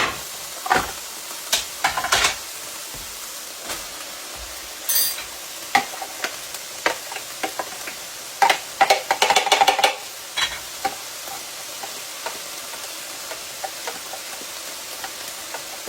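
Chopped sweet onion going into a hot pot to cook until translucent, with scattered clatters, scrapes and soft sizzling bursts from stirring, close and fairly loud.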